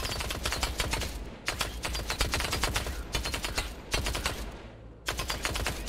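Rapid gunfire bursts from enemies shooting at each other in the video game Industria, dense overlapping automatic fire in loud stretches broken by brief pauses.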